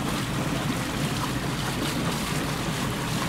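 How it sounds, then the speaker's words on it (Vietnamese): A docked yacht's engine idles to recharge its battery, a steady low rumble blended with wind and water noise throughout. "thỉnh thoảng cái mình khởi động cái động cơ của cái du thuyền lên"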